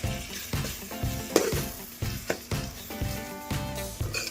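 Spiced egg fry mixture with salt, turmeric and chicken masala stirred in a hot pan, rhythmic scraping strokes about twice a second over a constant close sizzle, no talking.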